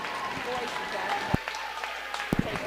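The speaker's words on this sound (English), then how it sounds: "let's have a round of applause for all of your Lorain High Titans seniors for the class of 2023" Crowd at a Lorain High boys' basketball game applauding the Titans seniors, a muffled, distant wash of clapping in a gym, broken by a few sharp thuds and knocks.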